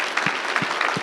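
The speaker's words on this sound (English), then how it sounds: "join me in a round of applause for them" At a community rail awards ceremony, an audience applauds steadily in a brief burst of many hands clapping together, full and close.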